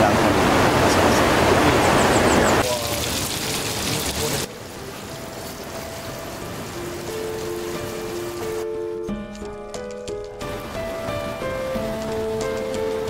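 The Cawang Keruh waterfall in Padang Guci Hulu rushes loudly in a dense, close roar for the first few seconds. The sound then drops to a quieter passage with melodic tones.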